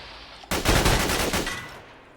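An automatic cannon in the video game Fallout 4, a Colt Mk.40 L/45, fires a sudden loud burst of rapid booming shots lasting about a second, its roar fading off afterward, with no talking.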